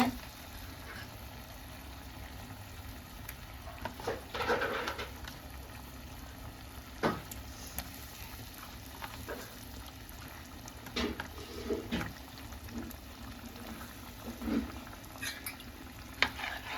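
Cleaned tuna pieces go into a pan for a homestyle fish curry, with soft frying and bubbling under scattered clinks and stirring scrapes across a quiet, steady background.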